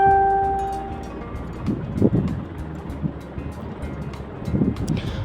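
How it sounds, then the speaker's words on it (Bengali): Battered pumpkin beguni fritters deep-fry in hot oil, two at a time, until red and crisp, with a steady, close sizzle that swells with bursts of bubbling. "দেখো একদম লাল লাল করে আমি ভেজে নিচ্ছি এই বেগুনিগুলো"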